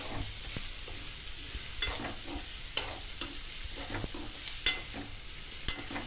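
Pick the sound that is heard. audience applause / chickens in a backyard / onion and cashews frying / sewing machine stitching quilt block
onion and cashews frying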